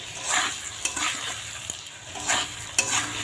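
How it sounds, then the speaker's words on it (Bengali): Spice paste and fried potatoes are stirred in a pan, a steady sizzle broken by repeated scraping strokes and a few sharp clinks of a utensil against the pan, close up. "এর মধ্যে দিয়ে মশলাটা দিয়ে এখন একটু কষিয়ে নেব"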